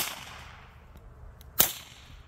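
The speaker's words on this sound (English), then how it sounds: "now we're going to do same ammo test in the P17 with a suppressor on it" A single sharp crack from a suppressed P17 .22 LR pistol firing 40-grain standard-velocity ammunition, a short isolated report over quiet background with a brief tail.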